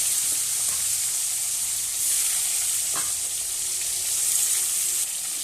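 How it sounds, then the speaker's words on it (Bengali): Rupchanda (pomfret) fish fry in hot oil in a pan, giving a steady, even sizzle with a few faint clicks and stirring touches, close and continuous, with no talking. "আর একটু ভালো করে ভেজে নেব"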